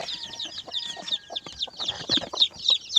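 Brooding mother hens cluck and chirp softly in a busy, close chorus with their chicks, small peeping calls mixed in.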